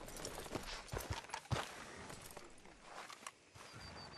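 Horse hooves clip-clop at a walk through a town in Red Dead Redemption 2, an uneven series of soft, distant thuds under quiet ambience.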